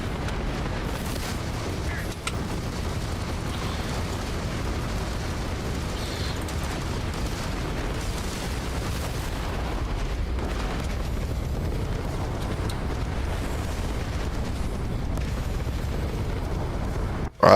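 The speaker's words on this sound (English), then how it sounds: "Oh, why are you shooting at me?" In Starfield, a sustained barrage of gunfire and explosions rumbles on steadily with scattered sharper bursts, ending in a sudden loud pop.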